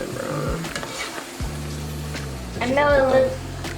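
Ground meat browning in a hot pot for Big Mac-style sloppy joes, a steady moderate sizzle running beneath low tonal hum and some kitchen clatter, swelling louder near the end.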